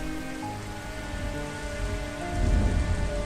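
Heavy rain pours down steadily at night, a dense continuous hiss of drops on surfaces that swells louder toward the end, with a faint low rumble beneath.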